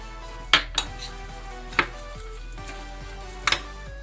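A spoon stirs diet cracker dough with salt, oil and mint in a bowl, giving a few sharp, close clinks against the dish spread across a quiet background.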